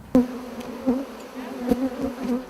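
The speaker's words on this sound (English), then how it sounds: "Most people run from a swarm of bees, but Sally Adams" Bees buzz steadily nearby in a droning hum, with a few sharper passes as individual insects fly close to the microphone.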